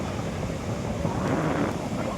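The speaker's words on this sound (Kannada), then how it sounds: "ಸುಮ್ಮನೆ ನೋಡ್ಕೊಂಡು ಗಾಳಿ ಮಾತ್ರ ಜೋರಾಗೈತೆ" Strong wind buffets the microphone at Malpe beach, a steady broadband roar with surf-like swells and no voices, loud and continuous throughout.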